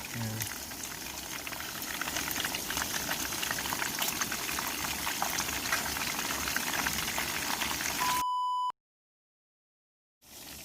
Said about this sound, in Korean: 이것도 같이 튀기고 있습니다